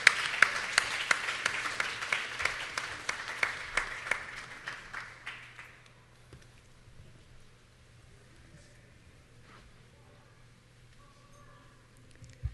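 Audience applause for a panel speaker at a convention, loud clapping that thins and fades out over several seconds, leaving a quiet room hum.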